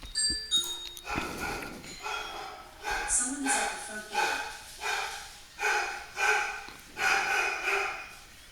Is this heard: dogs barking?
yes